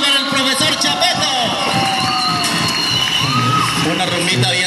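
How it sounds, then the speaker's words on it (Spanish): A lively crowd cheers, whoops and shouts for the music director at a carranga school festival, with children's voices and band tones mixed into the dense, loud hubbub. "Un aplauso para el profesor Chapeto."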